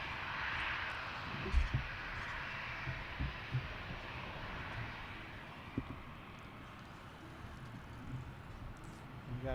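An American Airlines CRJ7 regional jet approaching near Washington National Airport gives a broad, distant engine roar that swells and fades gently. Faint bumps and handling noises sit beneath it.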